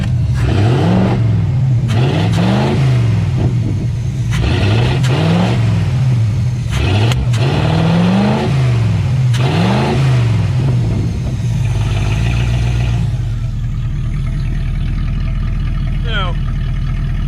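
A 1986 Camaro with a worn 305 V8 blips its throttle repeatedly after a first cold start in six years, loud close revs rising and falling in a steady pattern before dropping to a rough idle, with voices talking over it.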